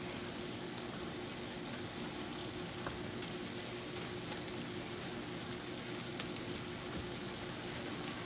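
Ground beef with garlic powder and chili powder sizzles steadily in a pan while being stirred, a soft continuous crackle with faint scraping, quiet and without talk.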